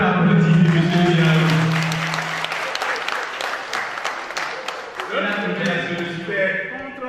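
A gathered audience bursts into dense, close applause between stretches of someone talking, the clapping filling the middle and fading as speech resumes.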